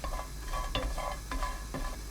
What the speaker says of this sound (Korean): 냄비에 손질한 국물용 멸치 15마리 넣고 센 불로 1분 볶습니다